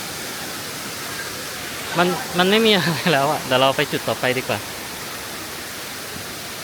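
Steady broadband rush of Mae Kampong waterfall in a cool mountain village, continuous and moderately loud throughout, with a person talking over it for a couple of seconds in the middle.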